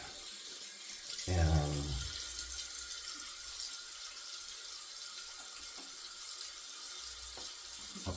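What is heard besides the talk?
tap water running to rinse a shaving soap paddle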